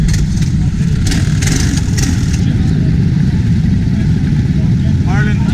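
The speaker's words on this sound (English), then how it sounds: "Twin engine kart." Several small engines of twin-engine go-karts buzz and rev together at steady volume during a 24-hour endurance kart race in Ireland, with voices faintly audible beneath the racing noise.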